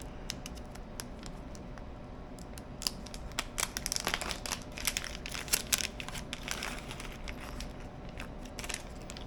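Small plastic baggie of parts from a radio transceiver kit handled up close, with crinkling and rustling in bursts that grow busier partway through, no talking.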